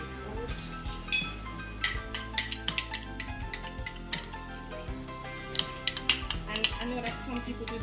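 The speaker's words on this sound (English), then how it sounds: "Scrape this out." Metal utensils scrape and clink against a cooking pot as thick Jamaican hominy corn porridge is cleaned out, a steady run of close, bright scraping knocks with no talk.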